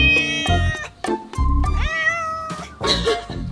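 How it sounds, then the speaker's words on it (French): A cat meows repeatedly in a run of loud, close, drawn-out calls, some rising and wavering, with short gaps between them and no talking. "qu'est-ce qu'on fait pour enterrer le bruit du chat?"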